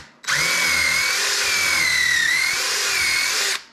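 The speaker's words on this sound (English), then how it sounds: "So all you do is clamp the jig on, drill your first hole." A power drill bores a hole through a clamped drilling jig during a chicken tractor build, one continuous steady whine of about three seconds starting and stopping abruptly, loud and close.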